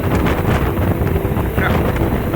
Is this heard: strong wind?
yes